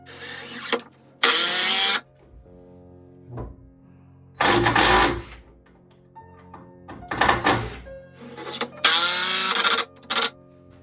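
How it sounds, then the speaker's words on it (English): A power drill drives screws into a 2x4 board for a workbench frame, with several loud, close bursts of whirring motor separated by quiet pauses, the bursts ranging from short to around a second long. "now what I'm going to do is I'm going to go ahead and slowly drive in the screws all the way down the board"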